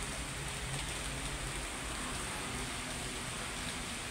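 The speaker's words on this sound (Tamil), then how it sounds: "விடாமல் பெய்துட்டு இருக்கு மழை." Steady rain falling outdoors on a cool summer evening, a dense, even hiss of drops on surfaces that continues unbroken and moderately faint, with no voices.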